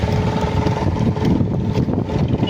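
Steady wind gusts at an empty seashore promenade (chowpatty) early in the morning, a continuous broadband rush with low rumble throughout, loud and close, no voices.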